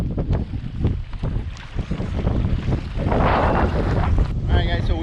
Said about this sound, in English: The wind just picked up dramatically.